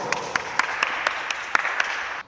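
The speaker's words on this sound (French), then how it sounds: "Mesdames et messieurs, veuillez applaudir Étienne Clément." Applause at an amateur Sunday tennis match, a sparse, fairly faint patter of a few hands clapping in a quick, even rhythm before it stops abruptly.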